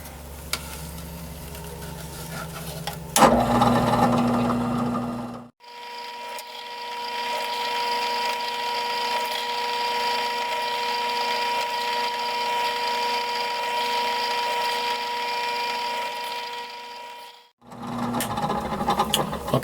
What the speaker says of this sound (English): Okay, I'm ready to start drilling the holes for the thread.